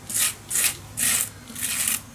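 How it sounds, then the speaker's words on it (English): Four slow, even scraping strokes drag a tool across a mixed media journal page to remove excess medium, each a dry rasping sweep with short pauses between, close and moderately loud. "So yeah, scrape the rest off."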